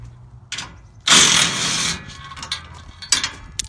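A ratchet wrench clicks as it backs out 9/16 screws on a 5' x 10' Odessa kayak utility trailer, with a dense burst of rapid ratcheting, then a few scattered clicks and knocks.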